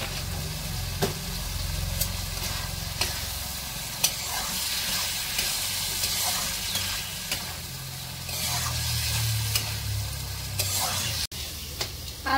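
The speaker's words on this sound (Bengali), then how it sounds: "আলু আর মোচার সাথে আমার মশলাটা ভালোভাবে কষানো হয়ে গিয়েছে" Spices fry with potato and banana flower in a pan, giving a steady close sizzle with regular light taps of a spatula stirring, and no one talking.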